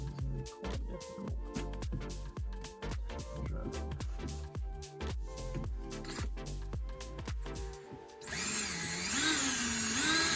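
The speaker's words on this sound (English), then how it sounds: "So I'm just going to use a very small drill bit just for the pilot hole" A small drill bit bores a pilot hole into the metal body of a Ford Transit Connect van in a series of short stuttering bursts, then the motor settles into one loud, steady whine.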